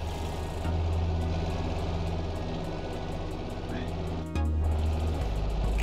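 A large rocket ship in an engineering sandbox game roars as it takes off, a loud, steady engine drone with rhythmic clicking, broken briefly by a short dropout before the roar resumes.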